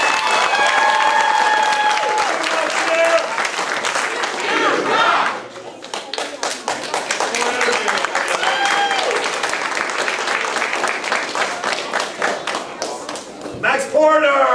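Audience at a family martial arts center belt ceremony breaking into applause, a loud, dense clapping crowd with scattered cheers and voices, dipping briefly midway before resuming strongly.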